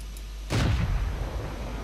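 A tank cannon fires once in the World of Tanks video game, a sudden loud boom that rolls into a sustained rumbling tail over low background noise.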